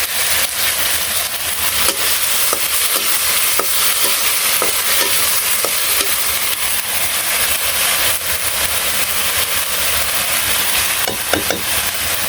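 Bitter gourd and potatoes frying in a pan, a loud continuous sizzle with scraping stirring strokes and scattered crackles throughout, no voices.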